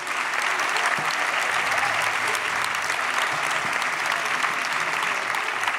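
Sustained applause from a live audience at a French talk event, dense and steady clapping with some crowd cheering throughout, no break.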